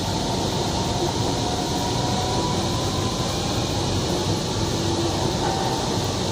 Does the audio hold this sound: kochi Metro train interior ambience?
yes